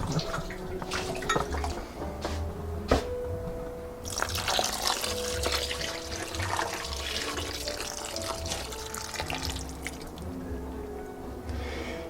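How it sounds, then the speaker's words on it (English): Two cups of water poured for tomatillo salsa, a steady, close splashing and gurgling stream lasting several seconds with small drips and shifts in flow, no talking. "I'm going to go with 2 cups of water."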